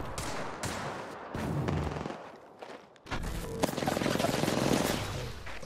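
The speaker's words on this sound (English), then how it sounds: "So two people are firing at him from a different direction." Video game gunfire, with bursts of rapid automatic shots loud and close, broken by a brief lull before dense firing resumes.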